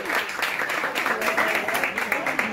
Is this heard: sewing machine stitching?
no